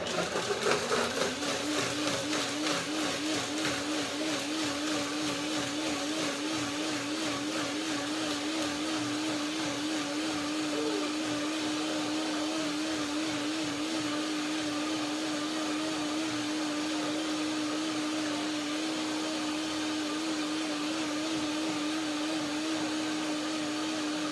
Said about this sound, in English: When I blend nuts and dates, I usually do a second blending.